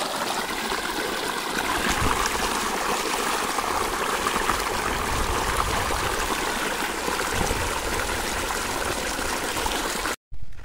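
Steady rushing water flows continuously and loudly from a burst pipeline in a farm field, a constant broadband splashing stream that cuts out abruptly near the end.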